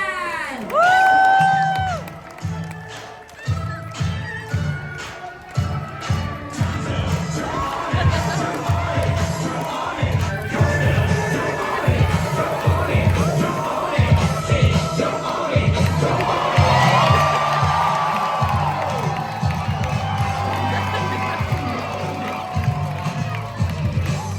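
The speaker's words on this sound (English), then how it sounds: "Everybody clap your hands for Adrian" On a Royal Caribbean cruise ship, a crowd at a belly flop contest cheers, whoops and shouts continuously, with lively sustained noise throughout.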